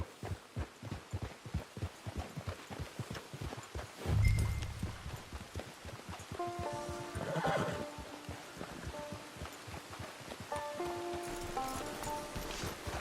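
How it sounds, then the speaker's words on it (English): In the video game Red Dead Redemption 2 Online, rapid hoofbeats clop steadily, then a horse lets out a loud whinny and snorts, with a soft melodic music cue entering underneath. "It's your horse."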